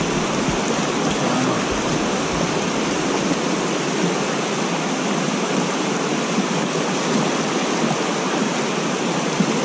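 Water pours steadily down a creek spillway in winter, with the lake and upper creek frozen over, making a constant loud broadband rush that stays even and unbroken throughout.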